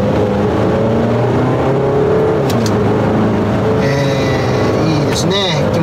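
A Volvo XC60 D4 clean diesel car accelerates in second gear from about 3000 rpm, its engine note droning and rising steadily inside the cabin, with someone talking over it.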